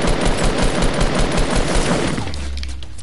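The Heavy's gun in a video game fires a loud, dense stream of rapid automatic shots for about two seconds, then cuts off abruptly, with no voices.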